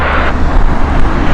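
A large airliner roars loud and close at Heathrow Airport, its broad engine rumble and wind rush holding steady through the whole short moment with no talk over it.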